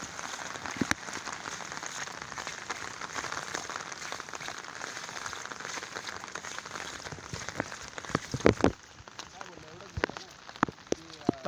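Heavy monsoon rain pours over a Konkan farm and a flooded river, a dense, steady hiss with scattered drips and splashes that eases slightly toward the end.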